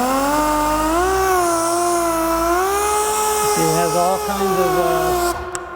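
A Rupes E10 polisher fitted with a cutting pad and compound runs continuously as the pad is primed, a steady whining motor tone that shifts pitch slightly and rises near the end.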